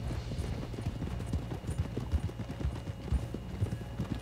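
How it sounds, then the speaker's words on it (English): Heavy horse hooves clip-clop steadily at a walking pace, close by, over a low rumbling background, in the video game Red Dead Redemption 2. "Now, John's horse is huge"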